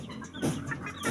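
A chicken clucks close by in short, throaty bursts over about a second, with faint background noise.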